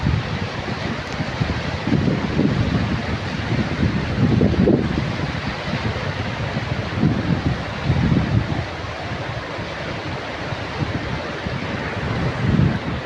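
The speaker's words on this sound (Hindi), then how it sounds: "ये पानी की आवाज़ है।" Fast-flowing floodwater after heavy rain rushing and churning in a loud, continuous roar with surging swells, close by and without speech.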